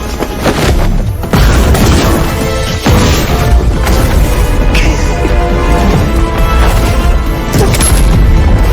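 A loud, dense barrage of booms, crashes and clashing impacts from an anime sword fight with a petrol-soaked flaming blade ending in an explosion, continuous and heavy throughout.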